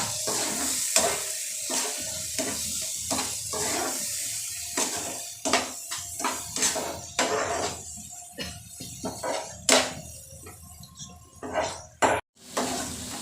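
A ground onion, coconut and garlic paste is mixed into an egg and potato masala, producing repeated close scraping and clattering stirring strokes with a faint wet sizzle underneath, all without speech.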